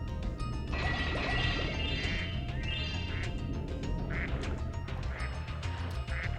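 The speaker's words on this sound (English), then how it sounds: "Got ducks." Ducks quacking in the Spyro 2: Gateway to Glimmer video game, several repeated quacks over a busy, loud game soundscape with music, continuing throughout.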